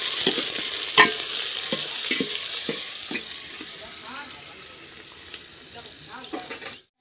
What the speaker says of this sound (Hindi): प्याज को धीरे धीरे आंच पर इसे भूनेंगे